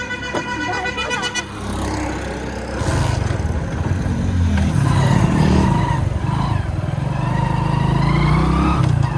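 An old motorcycle engine fires up and then revs, rising to a steady loud rumble that continues to the end.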